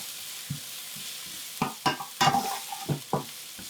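Onions browning in a pan for a hot and spicy vegetable curry, a soft sizzle broken by several sharp spoon scrapes and stirring knocks, louder bursts clustered midway, close up.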